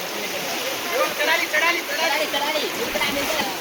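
Strong floodwater rushes through a village stream being waded across, a steady broadband roar filling the whole stretch, with voices talking over the churning flow.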